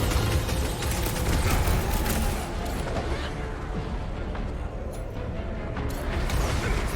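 Dense, continuous gunfire and explosions in a Marvel's Guardians of the Galaxy combat scene, loud and close with rapid overlapping shots and booms, and voices shouting underneath.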